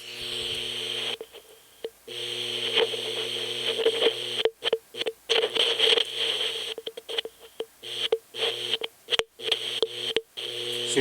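Audio carried on an LED laser beam onto a light-sensing diode and played through a small speaker in a wireless transmission kit, giving a buzzy radio-like tone with steady hum bands that repeatedly cuts in and out as the beam is passed over.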